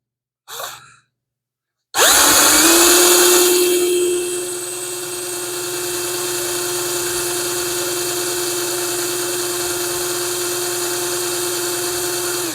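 A power drill whines up loudly after a short mechanical clunk, then settles into a steady, high-pitched grinding drone drilling metal for a Hemi intake manifold, running continuously to the end.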